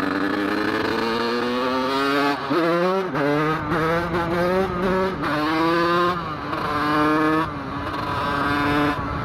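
Beta 86 TPR dirt bike braking jerkily, its engine note rising and dipping in uneven surges with stuttering breaks, loud and close throughout.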